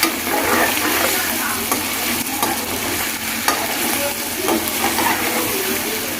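Meat pieces being stir-fried (bhunai) in a hot pan, with a steady close sizzle and periodic scraping of a spatula against the metal running throughout, with no talk.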